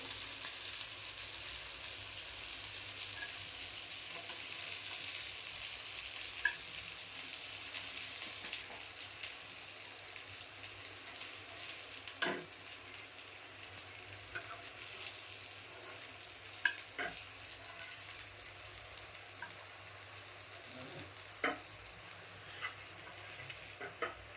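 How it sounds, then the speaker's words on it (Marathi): Quiet, continuous sizzle of fish frying in a pan, with scattered sharp clicks and scrapes of turning or lifting the pieces. "मासे झाले तर का मस्त भाजून तर काढून घेते"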